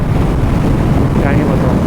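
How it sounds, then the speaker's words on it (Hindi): Strong wind roars against the microphone during a road trip, a loud, steady low rumble filling the whole stretch. "इतना तेज हवा है ना"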